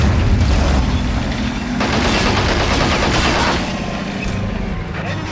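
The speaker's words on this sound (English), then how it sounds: "And there we go. Explosion." A tank exploding in a game attack, heard as a loud, sustained roar of blasts and gunfire-like crackle that fills the whole stretch, with a sharper burst in the middle before easing slightly toward the end.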